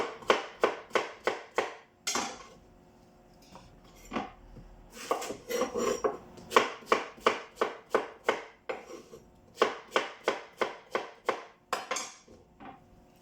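A kitchen knife slices and chops vegetables for roasted Mediterranean veg on a cutting board, in close, crisp strikes that come in quick regular runs with short pauses between. No one speaks.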